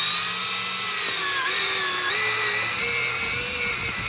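Power drill steadily driving a 2-inch wax-dipped stainless steel bevel-head screw through a pergola rafter into the main beam with a square-drive bit, a continuous close whine that shifts pitch slightly as the screw sinks.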